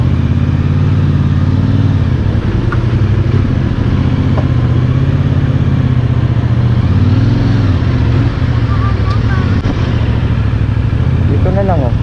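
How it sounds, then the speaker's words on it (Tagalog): A CFMoto 450NK motorcycle engine rumbles steadily nearby, passing by over ongoing street noise, with people talking throughout. "Padaanin muna natin tong isang motor."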